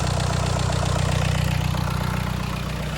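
A Skoda Kodiaq running after an engine replacement with the exhaust disconnected gives a loud, close, steady rough idle with a throbbing low rumble and a pulsing beat, and no talk.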